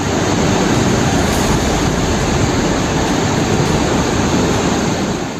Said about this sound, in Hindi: बादल फटने से मानो पानी का उफान तेज बहाव में बह रहा।